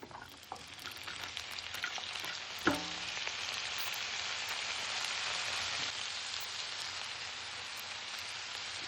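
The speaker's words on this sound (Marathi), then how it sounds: "त्यानंतर त्याच तेलामध्ये कांदा टाकायचा आहे" Vertically sliced onion frying in oil for a matar paneer curry, giving a steady, close sizzle throughout with one sharp utensil knock early on.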